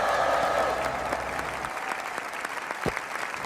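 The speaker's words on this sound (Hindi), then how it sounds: "पूरा हॉल तालियों से गूंज उठा।" A full hall breaks into applause, a dense wash of clapping that continues steadily, with a low rumble early on and a short sweeping effect near the end.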